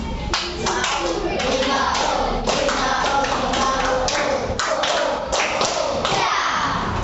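A classroom of children performs a rhythmic clap chant, sharp group hand claps and table taps landing in quick patterned bursts, with young voices chanting along throughout.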